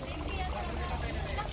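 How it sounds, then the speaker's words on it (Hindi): Water splashes and trickles steadily from a small decorative home fountain in a busy furniture and home decor market, a close, continuous pouring with faint indistinct voices beneath. "इसमें से गाइस वाटर निकलता है, पानी, जैसे आप ये देख सकते हैं"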